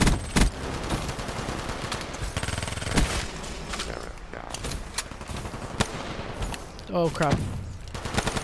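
Rapid bursts of M16 rifle fire in the shooter game Call of Duty Black Ops 3, sharp repeated cracks in clusters across the span, with a voice talking over them.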